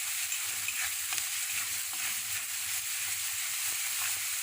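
Brinjal sautéing in a pan for khar vanga: a continuous bright sizzle with soft rhythmic stirring scrapes, close and steady throughout, no talking.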